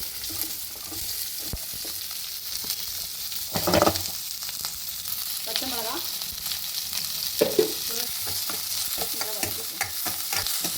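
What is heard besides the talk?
onions frying and stirring in pan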